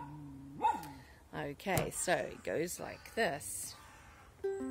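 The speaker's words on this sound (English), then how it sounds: "oh, you can probably hear my dog barking." A pet dog barks in a home in a few sharp bursts, close by, mixed with a person talking over and between the barks.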